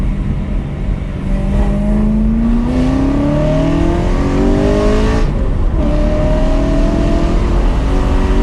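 Loud decatted BMW M3 exhaust on a road, the engine revving up through gears with rising tones, a brief drop between shifts, then pulling hard again, close and dominant.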